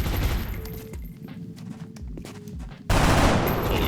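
Gunfire aimed at a floater in XCOM Long War: loud bursts of rapid shots, a brief lull with muffled thuds, then a sudden sustained volley to the end, with no talk.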